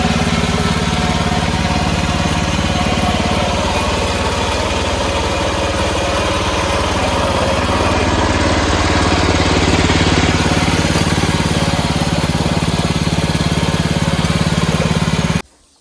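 A tractor engine runs steadily and loudly during wheat threshing on a village farm, a continuous droning rumble that cuts off abruptly at the end, with no voices.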